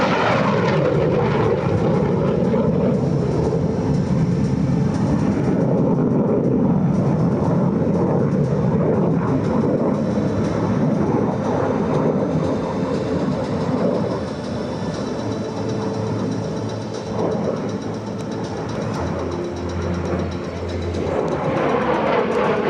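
A MiG-17 jet fighter flies a minimum radius turn at an air show in South Texas, and its jet engine roars loud and continuous throughout with a broad, rushing tone that swells and shifts as it passes, with no speech.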